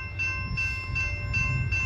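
A southbound CSX freight train approaches through Plymouth, Michigan, its horn sounding in sustained blasts over a low rumble, loud and fairly near, with no talking.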